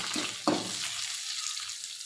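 Diced green and red capsicum frying in a pan for fried rice, a quiet steady sizzle with a brief clatter of stirring near the start, no voices.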